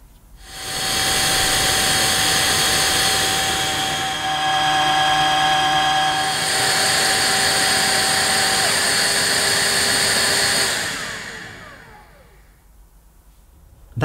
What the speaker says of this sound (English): turn the machine on using the power button and leave it for around 2 minutes to let it complete the self-cleaning cycle